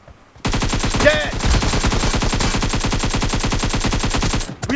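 AKM rifle fire in a video game, a long unbroken burst of rapid, loud, evenly spaced shots close up, ending abruptly after about four seconds.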